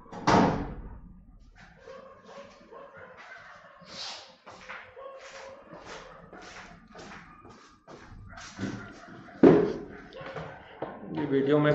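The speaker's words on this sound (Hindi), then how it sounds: "दरवाजा लगा देता हूं" A door being shut indoors at home late at night, landing as a short thump against steady nearby talking by a man.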